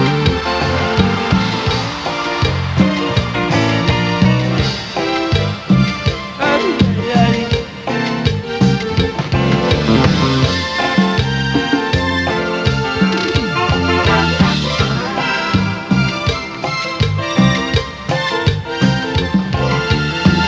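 A live band performs a cumbia at its farewell concert in Estadio Azteca. The full arrangement plays loud and steady throughout, with a dense rhythmic groove and no talking.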